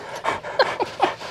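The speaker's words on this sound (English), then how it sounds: "Our guard dogs, everybody." Guard dogs panting close by in a front yard, several quick breathy bursts in uneven rhythm with short pauses between, fairly loud and alone.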